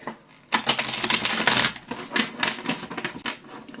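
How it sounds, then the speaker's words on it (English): A deck of tarot cards is shuffled up close, bursts of fast crisp riffling and flapping that start abruptly and come in several quick waves. "let's get into the shuffling"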